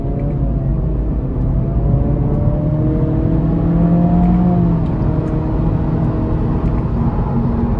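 2023 Acura Integra A-Spec with a 1.5 turbo four and CVT accelerating onto an interstate, heard from inside the cabin as a steady, loud engine drone rising in pitch over road rumble, with no talking.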